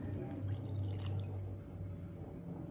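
Water pours into wheat dosa batter in a bowl, a close, continuous trickling splash that tapers off toward the end.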